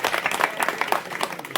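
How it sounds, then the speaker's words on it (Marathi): An audience claps at a gathering to thank donors, a short burst of dense, close hand clapping from many people with no talking. "टाळ्या वाजा"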